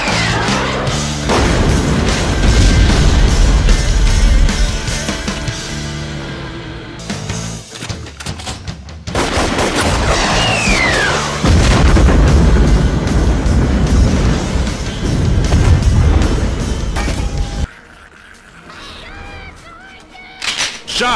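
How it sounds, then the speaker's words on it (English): Rocket launcher from the Metal Slug video game firing, heavy booming blasts and crashing explosions layered loudly over music and game effects for most of the stretch, with a brief drop before the end. "Rocket launcher!"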